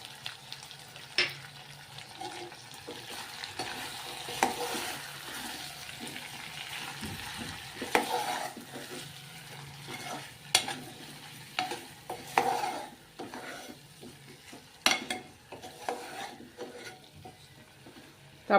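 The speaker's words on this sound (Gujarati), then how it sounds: "આને બે મિનિટ પાકવા દેશું તેલમાં" Spices and vegetables stirred in sizzling oil in a pan, a soft steady fry with irregular scraping and clinking of the spoon throughout, fairly quiet and without any talk.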